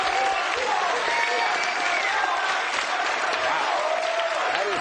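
A studio audience at a television talk show gives a dense, sustained round of applause with some crowd noise and cheering mixed in, steady and loud throughout.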